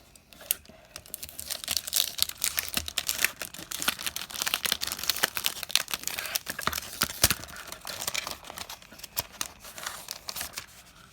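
Packaging for a set of journaling cards from a paper-goods subscription box is torn and crinkled open, making dense, continuous rustling and ripping close by for about eleven seconds with no talking.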